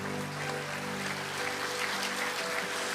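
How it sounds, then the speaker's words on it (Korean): Congregation members at a Sangnam Church festival in Changwon keep up a continuous, even wash of applause for a few seconds, with soft sustained music beneath. "하나님의 사람에게 박수 좀 쳐주세요."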